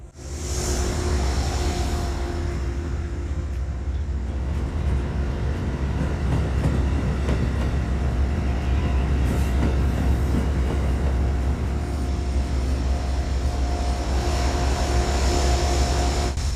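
The Amtrak Lake Shore Limited, led by three P32 AC locomotives with baggage, sleeping, dining and coach cars on the Boston to Chicago run, makes a loud, continuous rolling rumble with steady wheel noise throughout.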